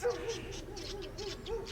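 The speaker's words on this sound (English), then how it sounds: "even the birds are singing" Birds call on the grounds of the Hopefield Dutch Reformed Church in South Africa: soft, repeated cooing hoots in an even rhythm, moderately distant, over steady outdoor background noise.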